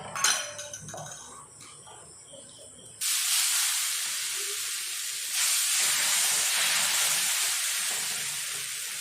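Drumstick leaf (murungai keerai) adai frying in oil on a pan, a steady loud hiss and sizzle that jumps up suddenly and then swells again, after a brief quieter stretch with faint clinks.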